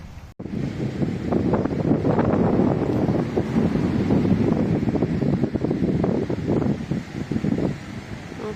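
Steady, rushing wind blows hard and continuously, with gusty rumbling buffeting throughout and no voices.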